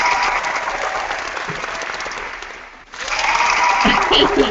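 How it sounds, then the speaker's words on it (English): Audience applause during a summer weekend live chat, a loud sustained burst of clapping that briefly dips and fades near the middle, then swells back strongly with some crowd noise. "And I'm going to clap."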